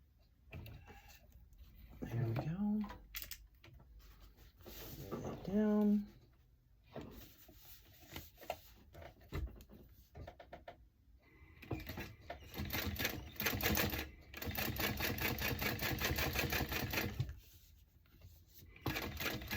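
A 1341 cylinder arm sewing machine top stitching a bag gives fast mechanical rattling runs that start and stop. A voice speaks in the gaps.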